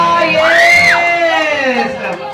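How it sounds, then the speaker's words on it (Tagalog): A crowd cheers and whoops for Tatay Erning at a surprise birthday party, with loud sustained shouting, a rising-and-falling yell and mixed voices calling out over continuous festive noise. "Palakpakan may sigawan for Tatay!"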